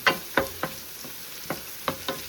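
Onion hitting a hot pan for pancit bihon, a soft steady sizzle with a handful of sharp stirring scrapes spaced about half a second apart, fairly quiet and close, with no voices.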